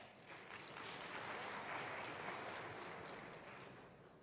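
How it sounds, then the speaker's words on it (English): Audience at a conversation event with Senator Barack Obama reacting with a broad wash of murmuring and scattered clapping that swells and fades over a few seconds, with no clear speech on top. "there's a murmur out in the crowd there"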